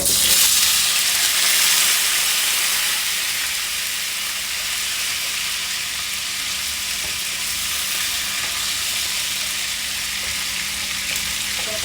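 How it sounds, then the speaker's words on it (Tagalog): Potatoes fry in hot oil until brown, giving a loud, continuous sizzling hiss that holds steady and eases slightly after the first couple of seconds, with occasional faint pops. "pipirituhin ko lang yung patatas para mag-brown ng kaunti"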